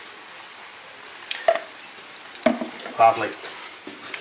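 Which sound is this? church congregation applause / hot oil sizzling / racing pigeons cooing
hot oil sizzling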